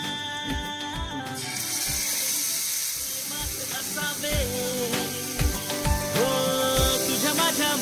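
Chicken drumsticks fry in hot oil spread on a flat pan, making a steady hiss and sizzle under rhythmic background music.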